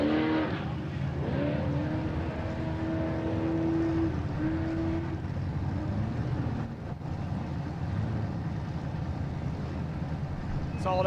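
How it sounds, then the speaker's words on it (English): A solid axle off-road race car at the 2019 King of the Hammers qualifying climbs through high berms, its engine rising and falling in pitch before fading to a steady rumble. A commentator's voice runs over it. "Solid axle car, clipping its way through the high berms."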